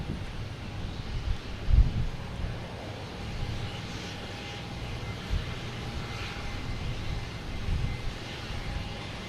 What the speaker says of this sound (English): we have Delta coming in from Athens, an A330